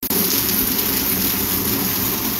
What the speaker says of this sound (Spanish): Está lloviendo, chicos, está lloviendo mucha agua